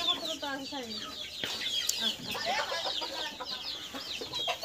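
Chickens and chicks kept warm under a light in a rural poultry shed cluck and cheep steadily and fairly close, with overlapping high peeps throughout and no speech.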